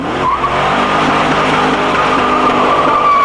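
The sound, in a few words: Pontiac SLP Firehawk engine and tire squeal on a ride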